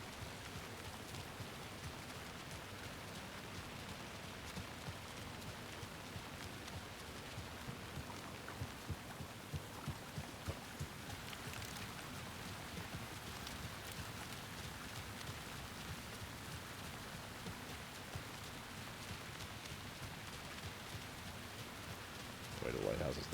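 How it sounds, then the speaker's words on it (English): Steady rain in a dark outdoor scene of the video game Alan Wake 2, a dense even hiss holding throughout with faint low rumbles beneath, and someone talking over it. "It's really rainy out here."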